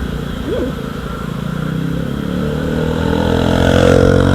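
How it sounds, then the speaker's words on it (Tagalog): A motorcycle engine hums in the background and grows gradually louder, approaching and passing nearby, at a migratory bird sanctuary in Candaba. "At merong motor sa likod ko"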